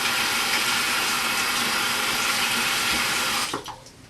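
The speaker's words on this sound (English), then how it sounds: "So I rinse out my brush and rinse off my mat." Tap water runs steadily and fairly loudly into a sink while a makeup brush and rubber cleaning mat are rinsed, cutting off abruptly near the end.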